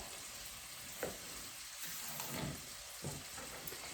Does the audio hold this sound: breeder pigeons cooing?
no